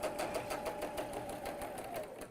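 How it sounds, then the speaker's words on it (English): A sewing machine runs steadily, stitching a seam a quarter inch from a marked line on two quilt squares placed right sides together, with a rapid regular needle tick throughout and no talk. "I've sewn 1/4 inch either side of that marked line with the 2 squares right sides together"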